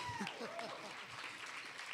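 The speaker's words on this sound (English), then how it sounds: "free to clap." Applause at a COP16 Ocean Day youth biodiversity session, quiet, distant clapping beneath a voice talking over it.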